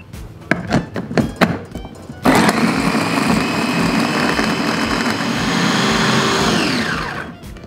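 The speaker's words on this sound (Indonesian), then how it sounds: "Lengkuas, jahe, bawang putih, bawang merah akan kita haluskan menggunakan chopper ID Life" An ID Life IL216 electric chopper grinding galangal, ginger, garlic and shallots: a few clunking knocks, then a loud, close, steady whirring motor that runs for about five seconds and winds down.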